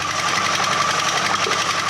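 A rock-crushing machine at a small gold mine grinds ore in a continuous, moderately loud mechanical clatter with fast, even rhythm and no voices.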